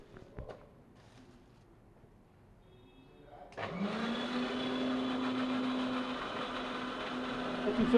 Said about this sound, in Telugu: సాల్ట్ కూడా వేసి వాటిని మిక్సీ పట్టిస్తారు బ్రదర్